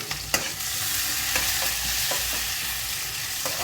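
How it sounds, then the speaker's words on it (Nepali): Green chili, ginger, garlic and whole spices fry in hot oil for a pickle, a loud continuous close-up sizzle with a few sharp clinks and scrapes of stirring, no voices present. "हरियो खुर्सानी, अदुवा, लसुन, अनि फोरन तेल पाकिरहेको छ"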